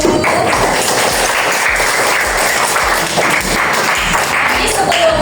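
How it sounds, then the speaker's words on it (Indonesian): A primary school class of fourth-graders claps their hands together in a classroom, a loud continuous burst of overlapping applause lasting several seconds. "Tepuk tangannya dulu."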